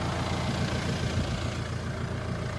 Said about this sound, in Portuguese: vocês podem ouvir aqui o barulho do trator